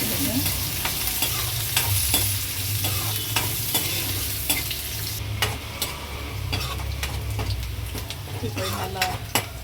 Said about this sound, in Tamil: இப்போ நல்லா வதக்கிடுங்க